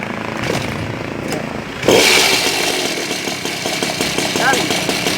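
The 71cc engine of an Evo Uberscoot powerboard with a faulty clutch sputters, then fires up and runs with a loud, buzzing two-stroke drone that continues steadily, while someone talks nearby before and during the start.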